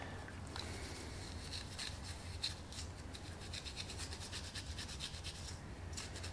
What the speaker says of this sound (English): If I'm using the Scotch Brite, I feel I'm not going to have to use the fiberglass